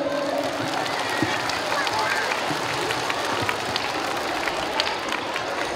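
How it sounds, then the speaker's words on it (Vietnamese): Applause from an outdoor crowd at a school sports festival in Son Tay, steady and dense across the whole stretch with a broad crowd murmur mixed in. "chúng ta hãy dành cho các em, những chủ nhân tương lai của đất nước, những tràng pháo tay nồng nhiệt nhất"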